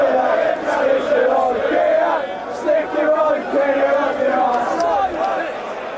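England football fans crowd at a first-round game against Sweden, a dense roar of massed chanting and shouting voices that rises and falls in waves, fairly close and loud.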